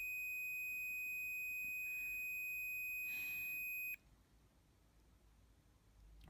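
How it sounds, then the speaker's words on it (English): A multimeter's continuity buzzer sounds while a Heathkit C3 power transformer winding is tested: a steady high electronic tone holds for about four seconds and then cuts off abruptly, leaving faint room hiss, with no talking. "Sorry for the beep, it's the continuity buzzer"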